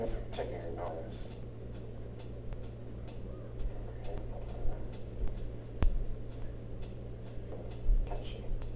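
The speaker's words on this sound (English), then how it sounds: "What is that mysterious ticking noise?" A toy makes a mysterious ticking, a steady stream of sharp clicks at an even pace under constant background hum, with people talking and singing over it.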